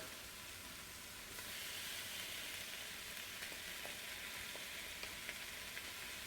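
Chipotle peppers fry in a pan with a steady, quiet sizzle and hiss. A few faint clicks and stirring sounds come through. Nobody speaks.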